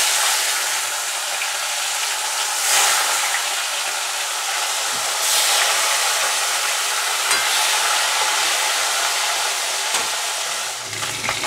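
Turmeric- and salt-rubbed fish pieces frying in oil, a steady, broad hiss of sizzling with a few sharper spikes as pieces shift in the pan.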